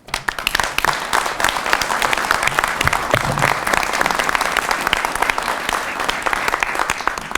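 An audience at a mayor's New Year address in Reuilly gives sustained, dense applause, many hands clapping loudly and continuously after a quick start.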